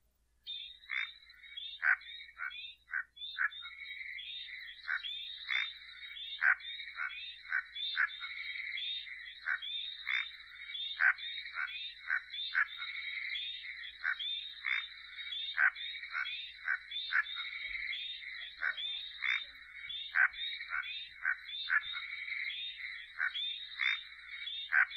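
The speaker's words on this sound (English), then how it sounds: "they're sometimes called the barking marsh frog, and that's because of the call that they make" Barking marsh frogs in a Murray Valley wetland call in a steady, repeated series of short barking notes, a whack-whack rhythm that carries on continuously at moderate distance with no voices.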